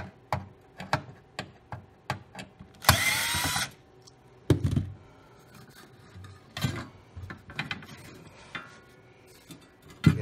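A screw being removed from the blower of a Lopi, Avalon or Travis stove fan kit: irregular close metallic clicks and ratcheting ticks, a brief harsh scraping rasp, and scattered knocks of handling.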